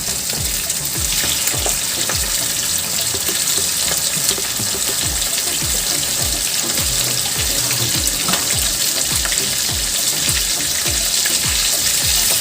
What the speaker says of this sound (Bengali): চিংড়ি মাছ যেহেতু খুব তো বেশি ভাজে না, আমি হালকা ভেজে তুলে নিচ্ছি